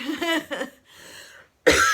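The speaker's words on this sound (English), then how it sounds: "I have had a cough, which is really annoying" A couple of short, harsh coughs close up, followed by a quiet pause and then one more sharp cough.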